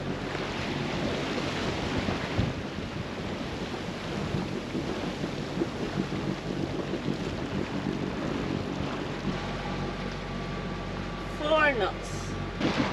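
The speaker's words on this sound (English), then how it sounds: "It's a calm ocean, no waves, but all this swirling" Current-driven water swirls around a sailing boat in a calm Tuamotus atoll with no waves, giving a continuous rushing wash close by while someone speaks over it.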